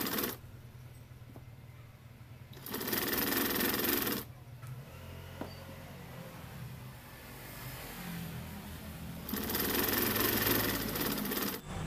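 A sewing machine stitching jeans with a size 14 needle runs in two loud steady bursts of whirring motor drone, separated by a quieter stretch of low mechanical hum.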